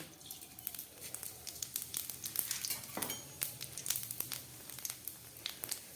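Panch phoron spices crackling in hot mustard oil, a faint, quiet stream of irregular pops and sizzling ticks scattered across several seconds with no speech.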